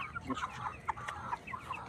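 Several cock chickens cluck in short, repeated calls, a restless chorus of clucks close by with a faint low rumble underneath.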